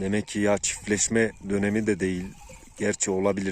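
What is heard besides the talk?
No everyday noises stand out.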